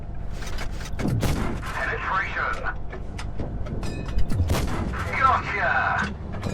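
Tank cannons fire gold shells in World of Tanks Blitz, with several loud booming shots followed by rumbling echoes and crackling impact sounds, spread across the clip as part of a game soundtrack.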